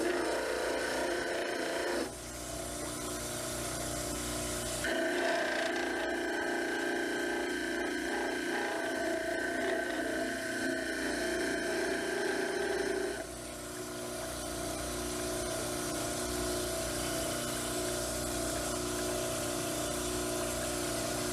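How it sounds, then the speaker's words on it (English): A dental model trimmer grinds down the sides of an upper plaster cast with a continuous, close, gritty whirring buzz. The pitch and pressure change as the cast is pressed against the wheel, with watery rasping underneath. "You may have to trim down the sides a little bit so that it can fit inside the model trimmer."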